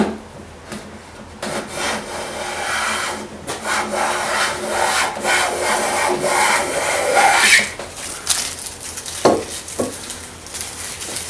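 A Millers Falls 709 hand plane shaving wood in long steady rasping strokes, a continuous close scraping hiss with a couple of short follow-up passes near the end.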